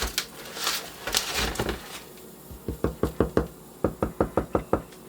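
Hollow knocks on the bottom of a freshly baked rye loaf, first a few scattered taps over background noise, then a quick rhythmic series of about a dozen raps close by.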